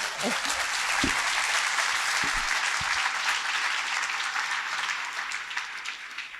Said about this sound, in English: So can we get some applause for Jenny, please?